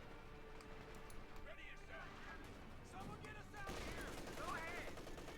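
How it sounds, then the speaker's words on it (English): Machine gun and small-arms fire in a Company of Heroes 2 battle between OKW and US forces, rattling bursts and scattered gunshots mixed with battlefield noise, heard under continuous commentator talk. "There you go, machine gun opening up here"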